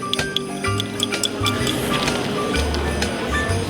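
A salad dressing of white wine vinegar, olive oil, sugar, salt and pepper being stirred: close, continuous wet sloshing and scraping, with soft clinks throughout and no talk.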